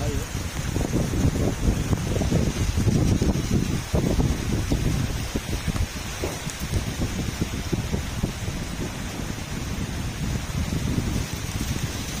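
Heavy typhoon rain roars steadily close by, with gusty rumbling bursts like wind buffeting the microphone, strongest in the first few seconds.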